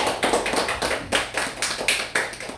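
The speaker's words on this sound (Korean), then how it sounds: "여러분 일단 우리 두 분들 박수로 환영을 좀 해주시죠" A small group at a Korean YouTubers' association rally claps in welcome, sparse and somewhat irregular, with distinct individual claps and a few hands beating roughly together in quick bursts.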